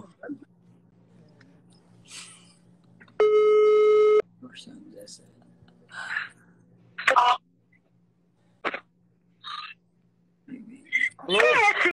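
A telephone signal sounds as one sustained electronic tone burst, with a man's speech and other voices in short bursts around it in a quiet room with a low background hum.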